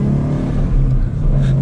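Ford Mustang GT with a manual gearbox, its engine idling with a deep steady rumble close by, a short burst of revving with faint exhaust pops; someone speaks over it.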